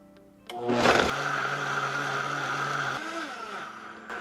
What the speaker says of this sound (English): Add your beef broth to your blender, and now we're gonna blend until smooth.